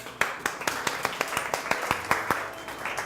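An eighth-grade class claps for a student in a loose, rhythmic patter of distinct individual claps, fairly close and steady, with a few overlapping hands.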